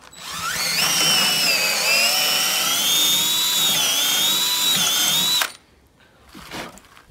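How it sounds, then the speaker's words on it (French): A power drill pre-drills pallet wood for screws while building a pallet bench, whining loud and steady for about five seconds before stopping abruptly, followed by faint handling noise. "je vais pré-percer pour faciliter le vissage de"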